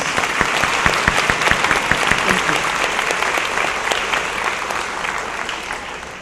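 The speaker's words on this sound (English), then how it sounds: "Please give them all a round of applause." A high school awards ceremony audience claps loudly for honored seniors, with distinct nearby claps standing out over a broad crowd of hands that gradually tapers off.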